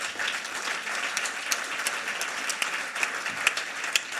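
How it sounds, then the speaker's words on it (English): A conference audience at a New Jersey workforce education event claps steadily for several seconds, a continuous wash of many hands with a few sharper nearby claps standing out. "So let's have another round of applause."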